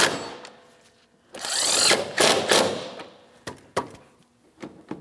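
Bumper cover mounting bolts being tightened on a 2007-2014 Ford Edge 3.5L, with bursts of power-tool whirring and ratcheting, then several short sharp clicks and knocks, close up with no talking.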